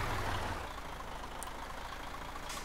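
Truck driving in Euro Truck Simulator 2 on a modded Africa map, a steady engine drone with low rumble holding throughout, plus brief faint hisses near the end, with no talk over it.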